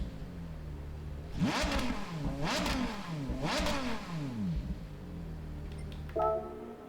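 Racing V10 engine in Gran Turismo 7 screaming at high revs, three loud rising and falling rev sweeps in close succession with sharp upshift drops, then a quieter idle-like drone with a brief higher whine at the end.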